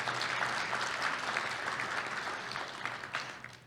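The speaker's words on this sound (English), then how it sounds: "I think they need another round of applause this morning if we could get that" An audience at a winter meeting of an oil and gas association claps together in sustained applause, dense and steady, easing off slightly toward the close.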